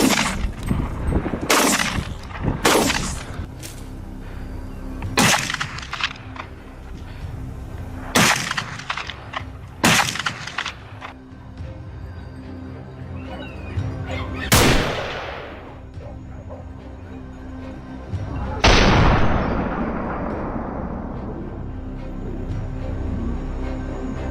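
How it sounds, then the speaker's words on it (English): Rifles fire during a wild boar hunt on a farm: about nine sharp, loud gunshots crack out at uneven intervals, a few in quick pairs, with one shot near the end leaving a long, fading echo. "Without hesitation, shots rang out, quickly taking down each target."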